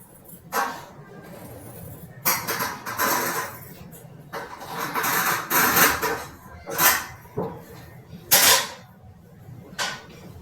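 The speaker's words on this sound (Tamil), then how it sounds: "இப்போ இந்த ஃப்ரண்ட் பார்ட்டை கட் பண்ணுங்க." Scissors cutting the front part of a lined three-dart blouse fabric, a series of close crisp snipping and rustling strokes in irregular bursts.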